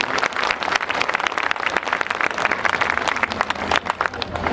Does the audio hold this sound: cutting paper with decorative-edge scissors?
no